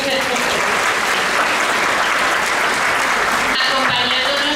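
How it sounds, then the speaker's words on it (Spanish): An audience at a brotherhood lunch applauds the mayor with loud, continuous clapping that stays steady throughout and tapers slightly near the end. "un aplauso"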